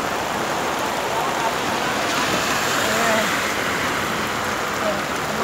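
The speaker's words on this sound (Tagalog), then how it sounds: "Umuulan na ay patumawid" Steady rain pours down at a roadside bus stop, a dense continuous hiss filling the scene from start to finish, with voices speaking now and then.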